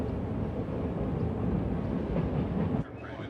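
Slow whisky-themed tourist train rolling along its rails, a steady low rumble and clatter heard from on board, continuous at moderate level before it drops off near the end.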